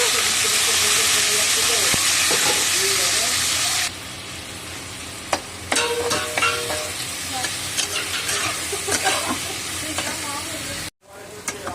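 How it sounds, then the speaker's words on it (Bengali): Onions dropped into hot oil left from frying fish hiss and sizzle loudly at first, then settle into softer crackling with scattered stirring clinks and spoon taps against the pan. "তো ওই মাছটাতে এই তেলেতে পেঁয়াজ দিয়ে দিচ্ছি"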